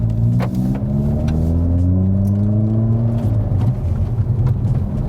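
Hyundai i30 hatchback accelerating, its engine note rising steadily in pitch under a loud, continuous cabin rumble before easing off midway, with no talk over it.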